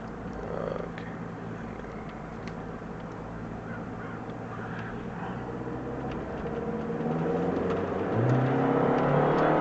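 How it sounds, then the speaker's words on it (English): A turbocharged 150-horsepower car accelerates hard, its engine note building steadily and growing louder toward the end, heard from inside with no talking. "150 horsepower, turbocharged. It pulls hard."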